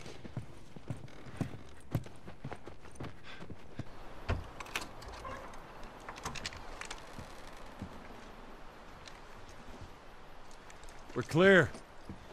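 Horse hooves clip-clop at a steady, moderate pace in The Last of Us near Tommy's dam, close and fairly quiet, with brief speech and a louder burst near the end.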